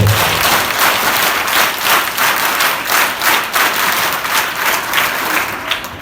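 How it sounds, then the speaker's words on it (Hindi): Children at a rover scouts unit formation at a girls' college clap together in sustained, loud applause, many hands beating in a dense, uneven patter for several seconds. "उन बच्चों ने ताली बाद में बजा दी"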